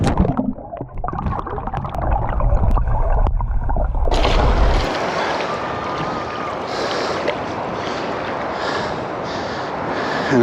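Ocean waves wash over floating GoPro camera grips at the shoreline, first a muffled low underwater churning, then a sudden switch to a broad, steady hiss of surf and wind close to the camera, with no talking.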